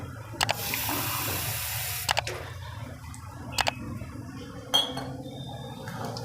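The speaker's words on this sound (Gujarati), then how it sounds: "ગરમ થાય ને ત્યાં સુધીમાં એકથી દોઢ ગ્લાસ પાણી નાખશું આપણે" Water is poured from a glass into flour for Rajasthani baati dough, a soft splashing trickle mixed with clinks of utensils and a few sharp knocks against the bowl, close by.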